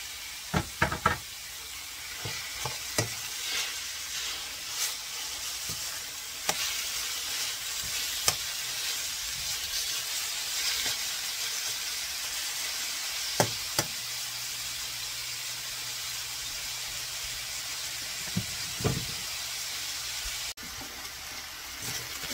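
Meat sizzles steadily as it fries in a pan with mushrooms and onion, a constant close hiss broken by scattered knocks and scrapes of stirring, with no talk.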